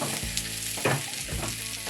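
Corned beef hash fries in a pan with a soft continuous sizzle, interrupted by a couple of brief scraping stirs, close and moderate in level, with no talking.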